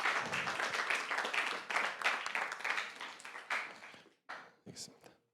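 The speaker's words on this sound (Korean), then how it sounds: "우리 박수로 환영하겠습니다" Church congregation applauding to welcome a visiting missionary, brisk dense clapping that thins into a few last claps and stops, with a voice speaking over it.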